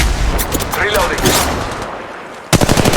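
Automatic gunfire from the Apex Legends Mobile game rattles in loud, rapid bursts, with a dense volley at the end after a short lull.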